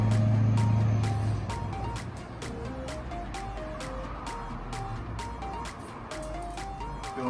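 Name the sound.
truck driving by outside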